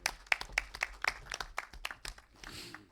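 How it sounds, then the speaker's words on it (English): An audience at a retina debate session of an ophthalmology conference applauds, with a scatter of separate claps at moderate volume that fades into a softer patter at the end. "Round of applause for both of them,"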